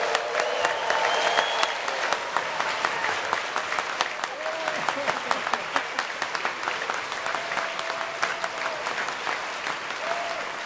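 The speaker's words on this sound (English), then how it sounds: "So would you mind doing a big applause?" The audience at an awards show gives a big round of applause, dense clapping with some cheering that carries on steadily, with a voice talking faintly underneath.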